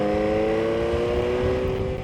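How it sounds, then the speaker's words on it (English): A very old Ferrari drives just ahead on a countryside dike road, its engine droning steadily and loudly with sustained harmonic tones, mixed with wind and road noise. "I'm also driving behind a very old Ferrari."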